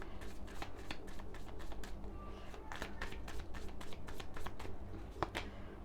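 Tarot cards are shuffled and drawn by hand, a close series of crisp riffling and slapping snaps in uneven rhythm, with faint room tone beneath.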